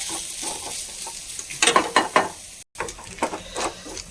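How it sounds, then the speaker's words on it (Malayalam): Grated coconut roasts brown in a pan for erissery curry, a close dry sizzle under repeated rhythmic bursts of a spoon scraping and stirring, with a brief dropout partway through and no talk. "നാളികേരം ഒന്ന് നല്ല ബ്രൗൺ കളറാവട്ടെ."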